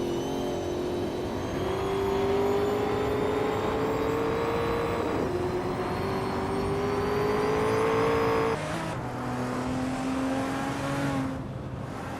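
Race cars in a video game race, engines droning and whining steadily as they rev and shift through several gear changes, loud and continuous with no talk.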